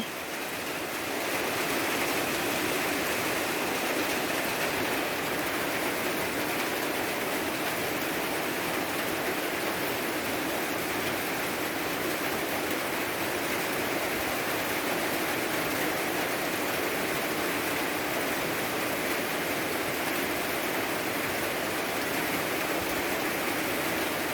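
Steady rain falls without a break, a dense, even hiss that holds at the same loudness throughout.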